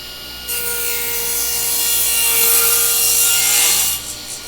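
A table saw cuts box joints in a wooden board, a steady loud whine sustained for about three and a half seconds before spinning down, near and alone.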